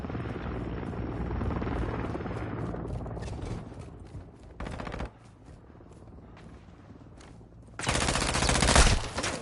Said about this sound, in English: Enemy Overwatch helo in the airspace.